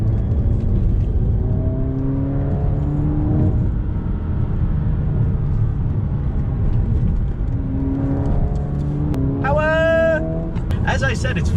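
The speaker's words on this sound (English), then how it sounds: "it's fun to throw around" A Dodge Dart without an aftermarket exhaust drives along on the road, its steady engine note rising and falling as it accelerates. The sound is close and continuous from the cabin, and a brief voice cuts in near the end.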